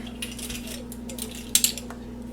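A spoon stirring nutmeg into apple butter in a cooking pot, light clinks and scrapes against the metal with a couple of sharper taps near the end, close and fairly quiet over a steady low hum.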